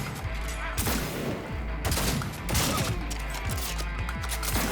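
Gunshots in the Cyberpunk 2077 video game, a burst of heavy shots and impacts set against dense combat noise, loud and close with a few sharp cracks.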